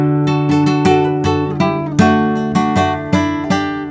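Spanish guitar playing a chord melody with one string blocked, plucked notes and chords struck in an even rhythm, close and clear, each ringing and decaying before the next.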